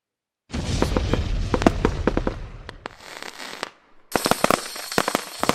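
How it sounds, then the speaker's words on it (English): Fireworks going off in a rapid, dense barrage of crackling pops and bangs, loud and close, dipping briefly to a fizzing hiss before another sharp burst of crackles resumes, with no voices. "Fireworks."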